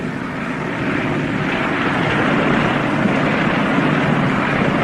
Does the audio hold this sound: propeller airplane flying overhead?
yes